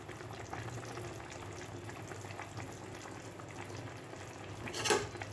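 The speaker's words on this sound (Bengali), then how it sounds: "ঝোলটা ফুটে উঠেছে" Fish curry gravy with spring onions bubbles as it comes to a boil in a pan, a low steady simmering burble with a brief louder splash near the end.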